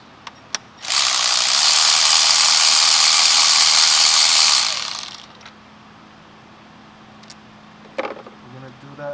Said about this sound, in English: I'm going to go ahead and use my electric ratcheting ratchet, speed up the process